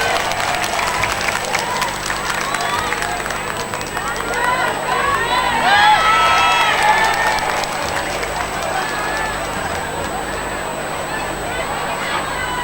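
Audience at an Islamic religious gathering applauding a singer, a brief swell of clapping and cheering rising and fading under ongoing talk.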